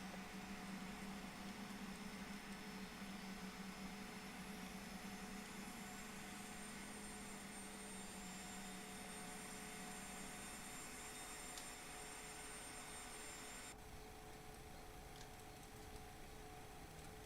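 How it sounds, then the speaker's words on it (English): Boeing 737-400F freighter's auxiliary power unit spooling up, a steady loud whine and rumble with tonal hum filling the cockpit, changing pitch slightly near the end as it comes up to speed. "APU is coming up"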